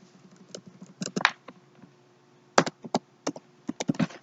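Keyboard typing during a demo of an app's registration form, with irregular bursts of keystroke clicks and taps at close range, sparse at first and then quicker clusters, with no talking.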